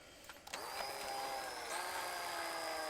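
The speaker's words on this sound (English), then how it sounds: "I can do it with this drill." A small electric drill boring into the casing of a NAD CD receiver, starting with a couple of short bursts then settling into a steady, close, high-pitched whine that holds for the rest of the clip.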